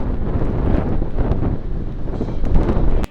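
Strong wind gusts of about 50 miles an hour buffet an FPV drone in flight, producing loud, continuous low roaring wind noise on the microphone that surges toward the end before cutting off abruptly.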